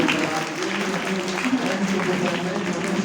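A crowd claps steadily throughout, a dense patter of applause with a voice speaking over it.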